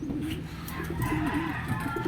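Racing pigeons landing at their loft during a race, with low rolling coos and soft bird calls close by over a steady outdoor background.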